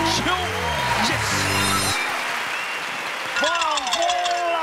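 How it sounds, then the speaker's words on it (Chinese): Studio audience applause on a Taiwanese TV variety show, a broad rush of clapping that swells between voices: talk and singing over the start, then a clear burst of clapping before the voices return. "我的热情掌声鼓一下"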